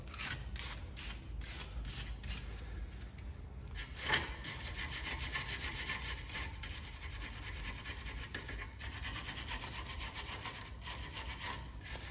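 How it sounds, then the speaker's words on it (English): A wire brush scrubs rust from the mating surfaces of a VW Golf front brake caliper, a steady close rasping scratch that runs continuously with brief pauses and a single louder knock, no talking. "we can get our wire brush. We're just going to clean up all the surfaces, all the mating surfaces"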